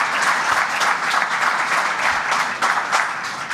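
An audience in a transit museum applauds to welcome a new New York City Transit official, a steady, full burst of many hands clapping together with no break, heard close.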